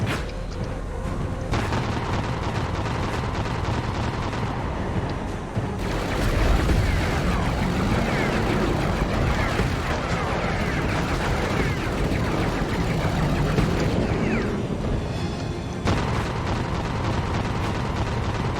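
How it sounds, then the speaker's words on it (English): Ragnarok heavy weapon firing in the mech combat game Mecha Knights: Nightmare, a sustained roar of booming, eruptive blasts with rumbling scatter, loud and continuous, near and dense throughout. "So I'll just fire the Ragnarok into that instead"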